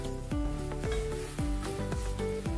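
Shrimp sautéing in a pan for sweet and sour shrimp, a steady close sizzle that runs the whole way, with repeated stirring scrapes over it and no talking.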